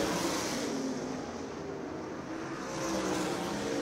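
Super sprint cars race around Colorado National Speedway, their engines blending into a continuous distant roar that dips slightly and then swells again as the pack comes around.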